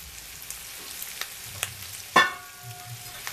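Feijoada beans being turned together with the other ingredients in a pan, with faint sizzling, a few soft scrapes and one sharper clink of a utensil midway; no talking.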